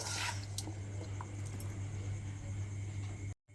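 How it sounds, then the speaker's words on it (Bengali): A wet soybean mixture is poured and scraped into a tiffin box in a home kitchen, giving a brief soft squishing splatter near the start over a steady background hum. "এবারে এগুলো আমি টিফিন বক্সের মধ্যে ঢেলে নেব।"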